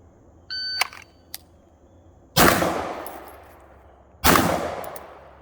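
Two sharp, loud pistol shots ring out from a Staccato P DPO at a shooting range, each with a long decaying echo and roughly two seconds apart. A few brief beeps and clicks precede them.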